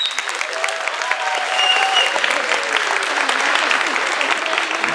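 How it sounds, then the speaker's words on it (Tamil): An audience gives a big, sustained round of applause, loud and close, with clapping continuing evenly for the full duration. "நீங்கள் தயார்னா ஒரு பெரிய கைத்தட்டல் கொடுத்தீங்கன்னா ஹாப்பி தான்."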